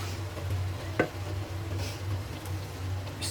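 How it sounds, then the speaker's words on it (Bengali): Beef pieces with bone go into hot oil and spice paste for shahi rezala, giving a soft steady sizzle with a single clunk of the meat or spoon and light stirring scrapes, close and without talk. "মাংস দিয়ে দিই।"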